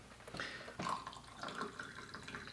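Hot water poured from a kettle into a glass to make a hot toddy, a steady splashing pour that swells at the start and then runs on evenly, close and moderately loud, with no talking.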